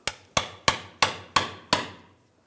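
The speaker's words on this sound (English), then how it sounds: "I'm just going to give it a tap with a hammer." Steel hammer tapping a pry bar against a Ram 1500 rear axle, six sharp metallic clanks at a steady, even pace, each ringing briefly before the next, close and clear with no voices.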